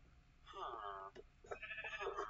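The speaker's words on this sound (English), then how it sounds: "And here's a sheep." A sheep in Minecraft gives two clear, close bleats in a row, wavering nasal calls separated by a brief pause, with no speech alongside.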